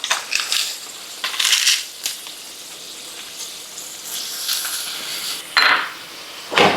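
Dry bihon rice noodles going into a pot give a loud, crisp crunching and rustling in irregular bursts, with a couple of sharper cracks near the end.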